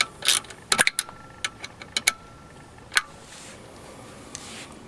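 A ratchet tightens the stator screws on a Chinese GY6 139QMB scooter engine, a close run of sharp metallic clicks in quick bursts followed by a few isolated ticks and a quiet tail.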